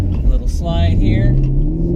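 A 2016 Camaro SS with traction control off slides, its engine rumbling loud and close with a rising pitch over two seconds while someone talks over it.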